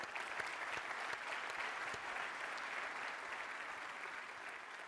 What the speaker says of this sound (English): Yep, a big applause.